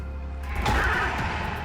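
A horse lets out a brief, loud whinny as it is killed in the Magic Duels card video game, rising over a dense bed of game sound effects.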